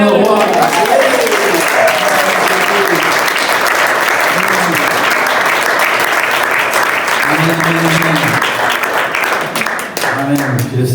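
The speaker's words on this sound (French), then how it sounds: "On acclame le roi." A church congregation applauds to acclaim the king during worship, steady sustained clapping filling the room for the whole stretch, with voices calling out above it.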